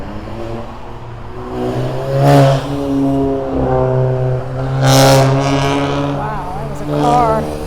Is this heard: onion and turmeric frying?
no